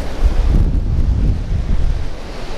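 Ocean waves crash and wash close by on a beach while surf fishing in Carmel, a continuous loud roar of surf heavy with wind buffeting the microphone.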